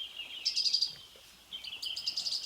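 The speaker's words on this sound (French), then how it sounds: "C'est un Zosterops gris de Maurice" Mauritius grey white-eye, a small grey and white bird, giving two short bursts of thin high chirping calls separated by a pause, fairly close with no talk.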